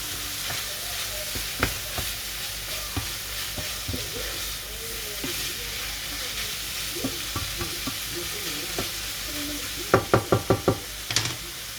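Fish grilling in a pan with parsley, cooked like meat, a soft continuous sizzle with occasional light taps, then a quick burst of five sharp knocks of a utensil on the pan near the end.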